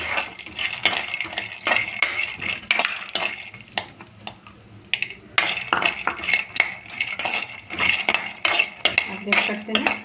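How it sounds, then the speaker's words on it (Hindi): Peanuts roast in a little refined oil in a pan, stirred constantly with a metal spoon, producing rapid clattering scrapes and clinks against the pan over a faint background sizzle. "अब मैं इसमें मूँगफली डाल करके मैं भूनूंगी इसको"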